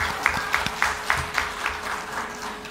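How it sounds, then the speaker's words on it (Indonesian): A small group claps for a few seconds in a fairly even rhythm, with no voices over it. "Tepuk tangan dulu, Pak."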